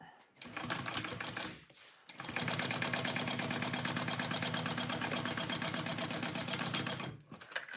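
A sewing machine stitches a back panel in close, rapid mechanical bursts: a short run, a pause, then a long steady stretch before it stops.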